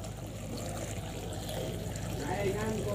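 Water poured from a watering can onto a potted plant, a steady close trickle and splash running throughout the short stretch, growing slightly louder toward the end.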